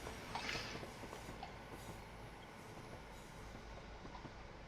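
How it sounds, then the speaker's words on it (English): A Class 802 IET train rumbles into Newport Tunnel near Cardiff, a low, continuous rolling roar with faint wheel noise. It stays steady and moderately distant throughout, and no one speaks. "There's our IET heading into the tunnel, handily named Newport Tunnel"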